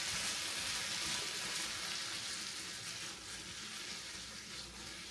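Snow peas hit a hot pan of cannabis-infused sticky stir fry, setting off a steady, close sizzle and frying crackle that runs alone for several seconds, easing slightly toward the end.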